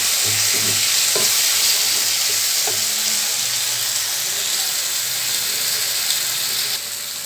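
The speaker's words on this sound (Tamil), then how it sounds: "அதையும் சேர்த்துட்டு இது கொஞ்சம் நேரம் வதக்கி கொடுக்கலாம்" Steady, close sizzling and frying hiss from a hot pan of green peas and spices sautéing, with a few soft clinks of stirring, continuing evenly without any talk.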